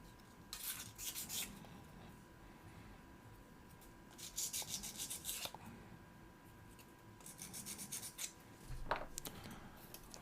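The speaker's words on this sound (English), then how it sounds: "I'm just sanding off the bits of the where it was nipped." Fine plastic kit parts for a ROKR 3D pinball model being hand-sanded to smooth the nip marks left by cutting, heard as three close, raspy bursts of rubbing separated by short quiet pauses.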